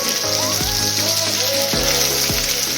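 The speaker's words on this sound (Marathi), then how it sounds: "तसं हळूवारच आपण या भेंडीला अलगदपणे फिरवूया" Stuffed okra fries in hot oil, a loud continuous sizzle and crackle with a few low knocks as the pieces are gently turned in the pan.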